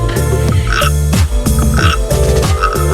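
Cartoon frog croaks in a children's counting song about five little frogs, repeated croaking voices over a loud, steady musical backing with bouncy rhythm throughout.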